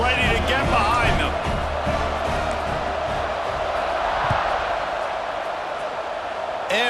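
Football stadium crowd at a Missouri vs Nebraska game just before a fourth-quarter kickoff, a steady loud roar of cheering and shouting filling the whole stretch, with a commentator's voice over it at the start.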